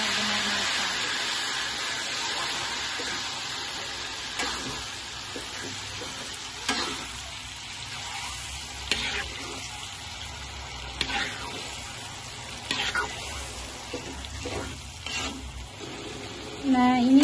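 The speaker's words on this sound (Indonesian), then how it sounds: "Langsung aja kita masukin cabainya. Masak cabenya sampai benar-benar matang." Ground chili paste for dendeng batokok fries in a pan with a steady, close sizzle, and a spatula scrapes and stirs through it at irregular moments.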